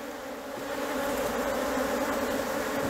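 Honey bees at an open beehive full of brood, a dense steady buzzing drone, close and continuous, with no voices.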